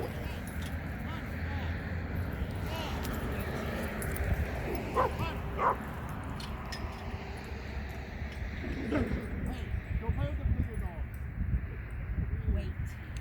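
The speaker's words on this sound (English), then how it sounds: "Lots of dogs barking, lots of dogs that are crazy, to say the least." Several dogs at a busy dog park yip, bark and whimper in scattered bursts, some near and some farther off, under a steady outdoor background with people talking at times.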